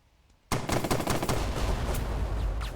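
Video game gunfire from Burden of Command rakes a house. After a brief quiet moment it breaks into a loud, sustained burst of rapid shots and fusillade that continues to the end.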